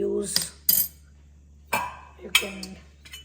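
A spoon stirring yogurt culture in a container, giving a few sharp metallic clinks and scrapes spaced apart, close and clear with no one talking.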